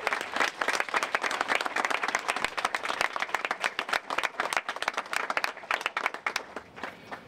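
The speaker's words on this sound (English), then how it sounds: "I think you really deserve a big round of applause and a bravo." An audience at an Independence Day celebration claps for the board chair. The clapping is crisp and fairly close, with distinct individual claps inside a lively, uneven patter that carries on throughout and tapers slightly at the end.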